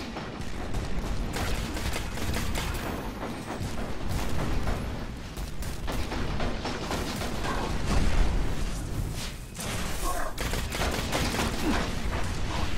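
Heavy gunfire in the video game Destiny during the Valus Ta'aurc Nightfall strike played solo: dense, continuous rapid shots and booming blasts, loud throughout and without voices.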